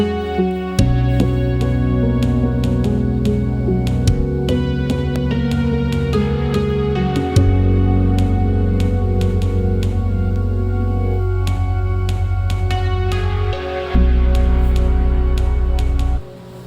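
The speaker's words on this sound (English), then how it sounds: "Asking the guitar player to try and work on the tone a little bit." Electric guitar played by a church band guitarist while the tone is being worked on, with sustained strummed chords over a steady low bass line and regular percussive hits, loud and continuous.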